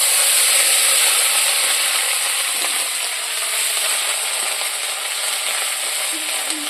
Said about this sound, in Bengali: এখন আমি পেঁয়াজ যেটা বেটে রেখেছিলাম ওইটা দিয়ে দিব